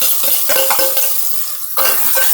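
Rice for a red rice and potato dish is stirred in hot oil, a close, steady sizzle broken by a few scraping strokes of the spoon and a brief quieter gap.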